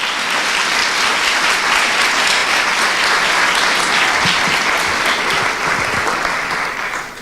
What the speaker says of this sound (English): give Ms. Shirley Coates a wonderful round of applause.